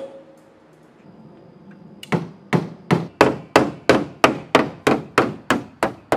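A hammer whacks a car body panel during auto bodywork, about a dozen sharp, evenly spaced metallic strikes close by after a quiet start.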